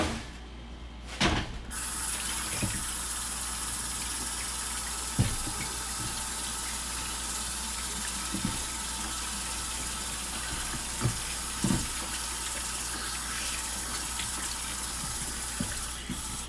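Food is washed under a running kitchen tap, a steady close rush of water with a few soft knocks and splashes scattered through, no talking.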